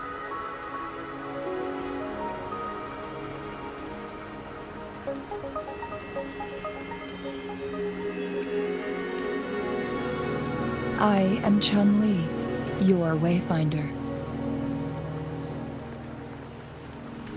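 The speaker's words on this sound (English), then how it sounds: "Don't worry, the rain won't last much longer." Steady rain falls in the video game Wuthering Waves, a continuous hiss under a voice, with a few brief sharper sound effects in the middle.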